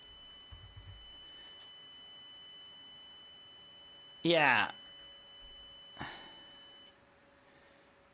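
An Arduino reaction-time circuit's buzzer gives a steady high electronic tone under a constant whine, with a brief louder burst and a shorter blip later, and a voice speaks a word.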